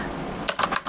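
A Tsunami MK-100 mechanical keyboard is typed on, with a burst of several quick, crisp key clicks in the second half following a quiet, hissy stretch.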